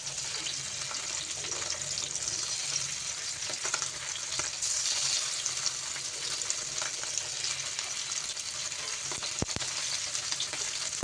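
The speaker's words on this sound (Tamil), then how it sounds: "ஆயில் நல்லா சூடாகிட்டு நம்ம மீன் எடுத்து போட்டுக்கலாம்" Fish fried in hot oil in a home kitchen, a steady dense sizzle and crackle that holds at an even level throughout, close and alone, with no voices.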